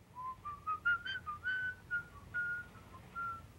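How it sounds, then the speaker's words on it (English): A lone whistler carries the Peer Gynt melody from the 1931 thriller M, a clear, wavering tune of rising and falling sustained notes with short gaps, moderately loud and close with no other sounds around it. "Beckert's own whistling of the Peer Gynt tune had conjured up all along"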